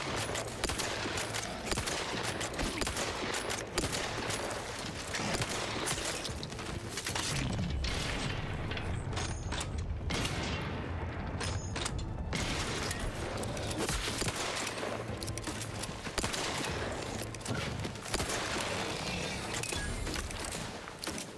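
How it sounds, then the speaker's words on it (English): A newly acquired rifle blazing away in The Outer Worlds 2 on Xbox Series X, dense rapid gunfire crackling almost nonstop for about twenty seconds amid clanking mechanical combat noise. "Let's try our new rifle."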